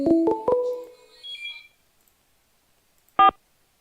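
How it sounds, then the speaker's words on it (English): Phone ringing for an incoming call from a prison, heard as a few short close electronic tones in quick succession, then a fading tail, silence, and one more brief tone. "there it is. The phone's ringing."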